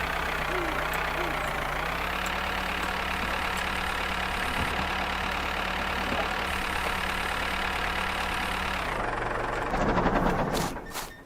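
A tractor engine idles steadily and loudly during a large potato harvest, with a constant low rumble and a slight shift in tone partway through. The sound ends in a brief burst of louder mechanical noise.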